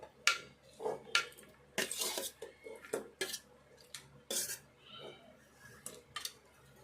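Mutton being put into a pressure cooker: a series of close metallic clinks and scrapes of utensils against the pot, irregular and fairly faint, with brief bursts of handling noise.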